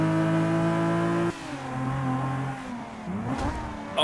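A Datsun race car engine revving in Forza 5, a strong steady drone that drops in pitch, then climbs again as the car accelerates, loud and alone.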